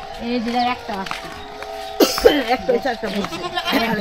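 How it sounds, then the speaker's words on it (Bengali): A young goat kid about fifteen days old bleats in several short, wavering calls, close and fairly loud, with people talking around it. "ছাগলের বাচ্চার বয়স কতদিন হইলো?"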